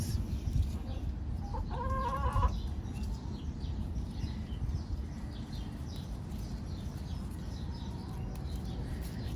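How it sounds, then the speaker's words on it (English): Chickens cluck and murmur softly in the background over a rumbling outdoor noise, one bird giving a brief louder call early on. "You probably hear my chickens talking in the background."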